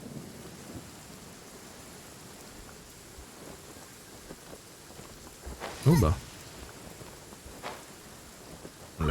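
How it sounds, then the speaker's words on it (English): Rain and thunder in the video game Genshin Impact: a soft, steady rain hiss with a rumbling thunder clap midway and another starting at the end, while a voice speaks briefly. "I don't like the rain."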